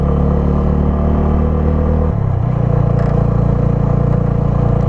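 A TVS Apache motorcycle riding a mountain road toward Zoji La in Ladakh, with a loud, steady engine rumble and wind buffeting up close and a brief shift in engine tone partway through.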